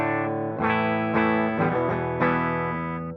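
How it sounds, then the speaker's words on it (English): Schecter BlackJack electric guitar played straight as a dry DI signal with a rolled-off top end, no amp, through a Valeton GP200LT: a few sustained chords struck every half second or so, thin and dull, alone and fairly quiet. "so it will be just a DI guitar signal with a very roll-off top end, and it sounds something like this"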